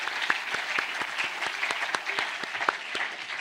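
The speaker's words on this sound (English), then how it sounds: "Give them a hand of applause there" Steady applause from a crowd at a robotics competition information evening, sustained clapping throughout with a few sharper claps standing out, fairly close.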